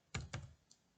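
A computer keyboard is typed on while coding: two distinct close keystrokes in quick succession, then a fainter third click, in a quiet room.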